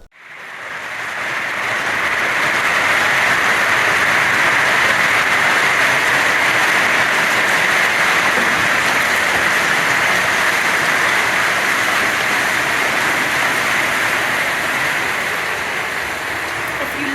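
Big hailstones pour down in a hailstorm, making a loud, dense, unbroken roar that holds steady for the whole stretch.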